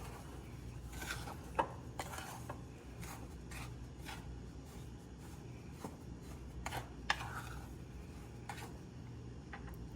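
Cornmeal and baking powder being stirred together in a bowl, heard as soft, quiet scraping and rubbing strokes with a few light clicks against the bowl.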